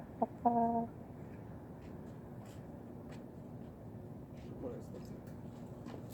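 A hen gives a short burst of clucks near the start on a homestead, then low background noise with faint indistinct sounds continues.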